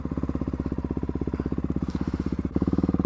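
A Ducati motorcycle engine idles and runs close by, the bike warming up while cold and prone to stalling: a steady, choppy, lumpy pulse of firing beats that grows slightly louder near the end.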